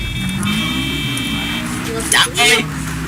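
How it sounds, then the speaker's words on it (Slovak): Car horn honks in the video game GTA 5 Online, two short blasts near the end over game engine noise and background music, with people talking throughout. "Trúbime."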